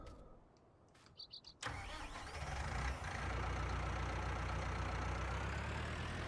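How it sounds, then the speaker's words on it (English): Tractor engine starting in Farming Simulator 19: brief quiet clicks and a short cranking burst, then the engine catches and settles into a steady, loud idle rumble that continues to the end. "So our new tractor."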